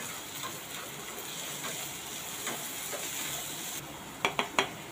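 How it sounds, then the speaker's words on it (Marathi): Mixed vegetables soften in a pan while being sautéed for white sauce pasta, giving a steady low sizzle throughout, with a few sharp utensil clinks against the pan near the end. "2 मिनटं आपण या सगळ्या भाज्या ज्या व्हेजीस आहेत त्या चांगल्या परतून घेणार आहोत"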